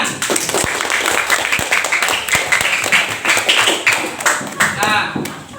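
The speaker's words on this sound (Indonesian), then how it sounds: "Nah, sekarang tepuk tangan." A classroom of children claps together in a brisk, loud run of hand claps, roughly rhythmic with a few sharp taps, and voices mix in beneath the clapping.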